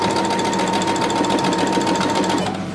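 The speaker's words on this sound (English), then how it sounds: "We're going to continue sewing." A sewing machine stitches ribbon trim for a Minnie Mouse tutu, running steadily and loudly at a fast, even rhythmic chatter that lasts without a break.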